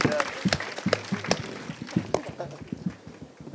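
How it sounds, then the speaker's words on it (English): Audience at a fitness and resilience panel at a Himalayan conclave gives a round of applause. Scattered, uneven claps are heard alongside some background voices. "Give a big round of applause for yourself."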